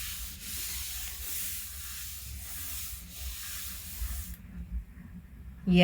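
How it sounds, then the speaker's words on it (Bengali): Colin glass cleaner hisses in a steady, close spray across a dressing table, then the hiss fades into softer rubbing and wiping. A brief sharper sound comes at the end. "এবার আমি টেবিলটাকে একটু কলিন দিয়ে ভালো করে পরিষ্কার করে নেব"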